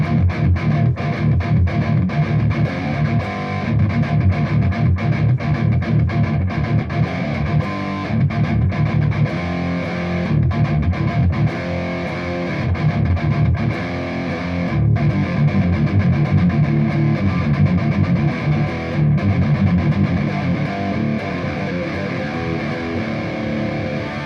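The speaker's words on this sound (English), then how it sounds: "drop the D, get some really, really chunky metal tones" Heavily distorted electric guitar tuned to drop D, a Wizard Modern Classic amp, churning out chunky metal riffs with thick low-end chugs, loud and continuous with no talking.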